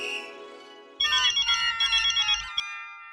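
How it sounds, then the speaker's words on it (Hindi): A phone rings while a call is placed to Mehta Sahab, a loud electronic ringtone pulsing in a steady repeating pattern after a brief dial tone, with no talking. "मैं मेहता साहब को फोन करता हूँ।"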